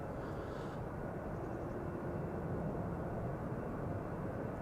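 An airliner departs Amsterdam Schiphol Airport with a steady, heavy engine roar heard from outdoors. It stays loud and continuous throughout, with a faint higher chirp briefly above it.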